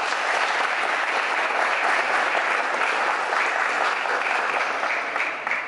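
Steady, full applause from a seated audience at a cultural policy forum in Baja California, a thick continuous patter of many hands at constant loudness for several seconds, fading slightly at the very end.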